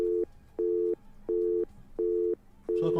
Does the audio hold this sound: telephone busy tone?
yes